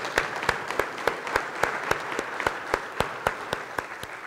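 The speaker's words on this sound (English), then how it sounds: "let's give a round of applause to those who have been reelected to the board" A small audience at a membership meeting applauds reelected board members: sparse, distinct claps in a steady rhythm, moderately quiet, with no talking over them.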